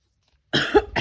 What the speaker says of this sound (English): I thought I was doing so well not coughing